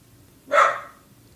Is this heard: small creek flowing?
no